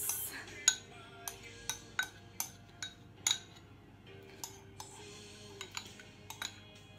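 Chocolate goes into cupcake mix in a bowl with a quiet run of sharp, irregular clinks of a utensil against the bowl.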